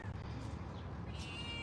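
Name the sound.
cat meowing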